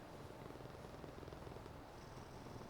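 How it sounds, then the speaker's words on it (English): Soft, steady cat purring, low and continuous throughout, close and quiet with no other sounds. "They purr softly and give your hand an affectionate lick before slipping off into the night."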